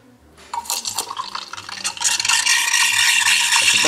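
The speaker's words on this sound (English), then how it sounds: "So, we'll go with the first frothing here of the milk." An espresso machine's steam wand frothing milk for a cappuccino starts with sputtering, rattling bursts, then builds into a loud, steady, close hiss that fills the rest of the clip.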